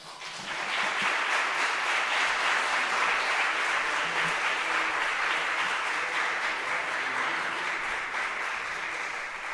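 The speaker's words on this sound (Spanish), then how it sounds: "yo creo que Manolo se tomó en serio el tema de los aplausos" Conference audience applauding at the close of a talk on automated activity and AI in administrative inspection, a dense steady roar of many hands clapping that holds evenly for nearly ten seconds with no voices over it.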